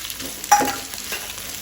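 Onion and capsicum sizzle softly in a pan with ginger-garlic paste for a Goan squid chilli fry, with one brief scrape of stirring in the middle.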